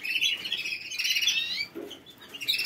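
A pet bird chirps and twitters in quick bright bursts close by, with a brief pause and soft low rustle midway, and no talk.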